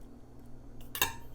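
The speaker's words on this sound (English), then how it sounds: "I'm going to just fold in 1/2 cup of pimento olives" A brief utensil clink against a bowl while half a cup of pimento olives is folded into a thickened mixture, one sharp metallic tap near the end over quiet kitchen background.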